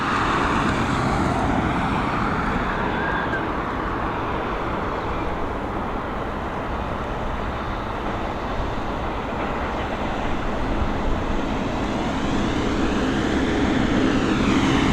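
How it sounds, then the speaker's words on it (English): A Ryanair Boeing 737 MAX jet departing Dublin Airport on a flight to Milan, its broad engine roar steady and fairly loud throughout, mixed with distant traffic-like rumble and no talking. "Let's get ready for the Milan departure. This Boeing 737 MAX operated by Ryanair."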